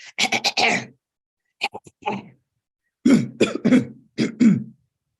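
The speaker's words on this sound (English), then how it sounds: "avoid excessive throat clearing and coughing" Someone clears their throat in a quick rasping burst, then follows with several harsh coughs in short clusters, close and loud with silence between.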